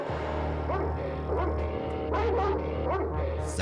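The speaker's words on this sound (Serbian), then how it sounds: "Pas bez kontrole, ništa ne vredi." A dog gives several close, loud barks and yips in an irregular series over a steady low hum in the background.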